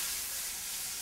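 Garlic sautéing in olive oil in a pan, a soft steady sizzle and hiss that holds evenly for about a second with no voices.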